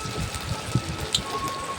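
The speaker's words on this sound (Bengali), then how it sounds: "কড়াইটা তেলটা তেতে গিয়েছে এরপর আমি গোল আকারে বড়া গালা করে নিয়ে আমি ছেড়ে দিচ্ছি" Soybean fritters dropped into hot mustard oil in a wok, giving a steady close sizzle and crackle with a few small pops and no talking.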